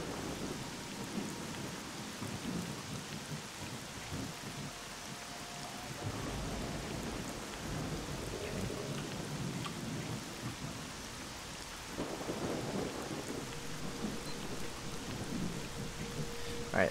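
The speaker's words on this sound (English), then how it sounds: "There's no way they can hear me in this rain." Rain and thunder in S.T.A.L.K.E.R.: Shadow of Chernobyl, a steady hiss of rainfall with low rumbling thunder rolls and scattered drops across the whole stretch, fairly quiet.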